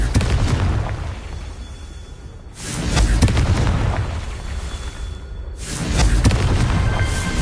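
Confringo fire spell blasts in the video game Hogwarts Legacy, two loud booming explosive bursts a few seconds apart, each with a rumbling tail, close and without speech.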